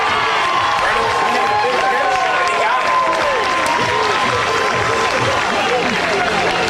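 A college baseball crowd cheering and applauding after an inning-ending 6-4-3 double play, a loud, dense, sustained roar of clapping and shouting voices filling the whole stretch.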